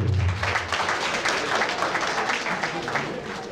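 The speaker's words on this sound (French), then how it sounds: "On les applaudit de nouveau." An awards ceremony crowd applauds steadily with dense, overlapping clapping throughout, fairly close and moderately loud.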